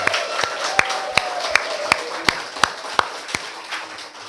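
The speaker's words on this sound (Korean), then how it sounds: "우리 청년들에게 다시 한번 뜨거운 격려의 박수 한번 해드리도록 하겠습니다" Church congregation clapping at a first-anniversary thanksgiving service, steady rhythmic claps in unison roughly three times a second, ringing out over a soft background hum and tones.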